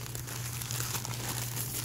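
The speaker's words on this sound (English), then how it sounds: "I love all the bright tissue paper she used." Bright tissue paper crinkles and rustles as a birthday gift is unwrapped, a steady close crackling over a low steady hum with no talking.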